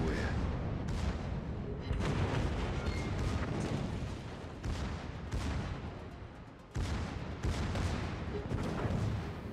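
Salvoes from the German Tier IX premium battleship Pommern in World of Warships: repeated heavy booms roll into one loud, continuous rumble, with fresh blasts every couple of seconds.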